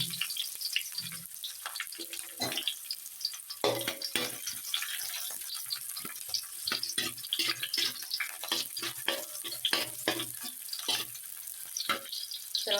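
Shallots and garlic are sautéed in a pan, giving a continuous crackling sizzle with irregular spitting pops throughout, close and moderately loud.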